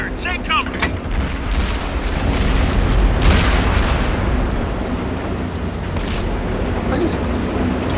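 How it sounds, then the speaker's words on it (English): Heavy artillery explosions in the World of Tanks video game land as deep, rolling booms over continuous battle noise, with a player's voice heard briefly alongside. "Artillery fire, take cover."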